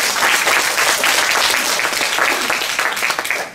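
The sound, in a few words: audience applause welcoming the plenary speaker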